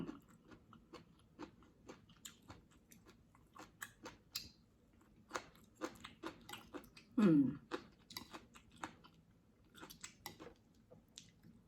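Crispy fried red tilapia being chewed up close, a steady run of soft crunches and wet bites with quiet gaps, plus one louder bite partway through.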